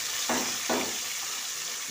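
Small chopped chicken pieces dropped into hot oil, two quick sizzling bursts a moment apart over a steady frying hiss, close and moderately loud.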